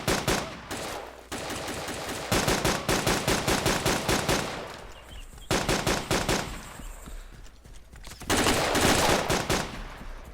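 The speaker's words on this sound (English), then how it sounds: "It's definitely a gunshot hit the wall." Gunfire in the military survival game BreakingPoint: rapid bursts of automatic shots crackle in several volleys separated by brief lulls, moderately loud and somewhat distant, with no talk.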